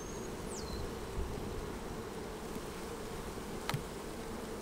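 Faint, steady buzzing of honey bees around an open long hive during a cool, rainy spring inspection, with a soft low drone and no talking.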